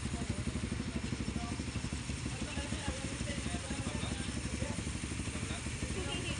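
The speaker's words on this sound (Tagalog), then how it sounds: "So ayan yung motor ni Moto-D, si Joban." A brand-new Raider 150 FI motorcycle engine runs steadily with a low, even chugging idle, fairly close, with no talk over it.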